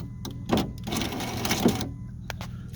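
A window regulator motor in the door of a 2005 Ford Focus hums and whirs with the key turned to accessory, giving two rising strained runs and a few short clicks close up, with no talking.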